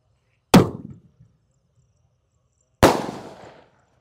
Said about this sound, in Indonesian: lanjut yang kita nyalakan di sini ada mercon langmas. Ini meledusnya 2 kali ya, di bawah dan di atas